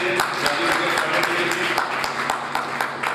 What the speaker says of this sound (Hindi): मैं चाहता हूँ आप एक जोरदार ताली बजाएंगे